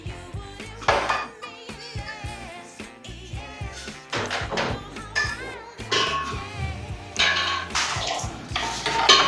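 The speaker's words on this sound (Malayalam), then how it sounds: "നമ്മളത് ഇപ്പം നമ്മുടെ പ്രഷർ കുക്കറിനകത്ത് കയറ്റി കുക്കറിനകത്തോട്ട് ഇട്ടു ആ അതിന് നമ്മൾ ഗ്യാസ് സ്റ്റൗവിലോട്ട് വെക്കാൻ പോവാണ്" A metal pressure cooker holding chicken is handled and set onto a gas stove, with irregular clanks, knocks and rattles of cookware coming close and fairly loud, no one talking.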